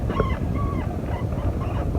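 Lilo the dog lets out thin, high whimpers that sound like crying, several soft wavering whines over a steady low background rumble.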